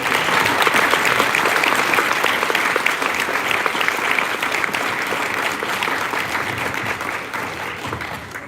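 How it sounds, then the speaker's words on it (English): Sustained crowd applause for event sponsors at a Maine Department of Education celebration of teachers, a dense, steady clapping that holds strong throughout and only tapers slightly toward the end. "let's give a round of applause for all the sponsors"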